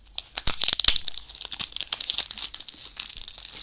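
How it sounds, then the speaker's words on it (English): Packaging of an Amazon Echo speaker being ripped and torn open, with close, loud crinkling and sharp tearing bursts in quick irregular succession and no voices. "How do I rip this?"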